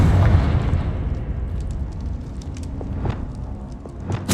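Confringo explosive spell blast in Hogwarts Legacy, a loud, low rumbling boom that rolls on and fades slowly, with faint crackling debris over the tail.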